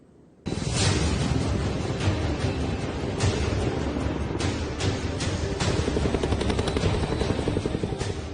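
Sukhoi and MiG-29 fighter jets roar overhead during a night Indian Air Force display, a sudden loud, sustained engine blast with rough crackling texture that holds steady throughout.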